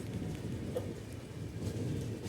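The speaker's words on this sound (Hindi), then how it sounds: "काफ़ी तेज़ बारिश शुरू हो गई है अभी" Heavy rain pours steadily outside a moving Indian express train between Patna and New Jalpaiguri, a dense continuous roar of drops with faint low rumbling underneath, heard without talk.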